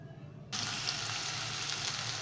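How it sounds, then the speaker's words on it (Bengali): Chopped onions hit hot mustard oil in a wok and burst into a loud, sudden sizzle that then holds as a steady, close crackling fry. "কড়াইতে সর্ষের তেল গরম করে নিয়েছি এর মধ্যে এবার পেঁয়াজ কুচিগুলো ছেড়ে দেব"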